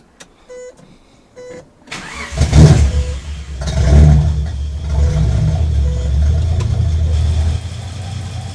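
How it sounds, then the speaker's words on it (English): A Datsun 280Z engine, retrofitted with FAST EZ-EFI fuel injection, cranks with a few chimes beforehand, catches and starts, revs up briefly, then settles into a steady idle close by. "I'm gonna start up now and show you how it runs."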